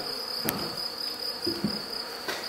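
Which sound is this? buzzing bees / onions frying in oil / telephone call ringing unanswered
buzzing bees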